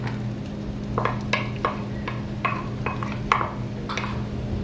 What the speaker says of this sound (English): I've been frying the ginger garlic for a couple of minutes now